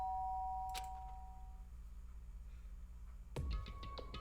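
A two-tone electronic chime, like a doorbell in the video game Danganronpa, rings faintly, with a few soft chime notes and clicks a few seconds later.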